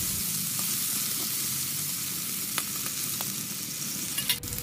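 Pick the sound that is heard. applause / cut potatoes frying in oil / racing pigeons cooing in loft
cut potatoes frying in oil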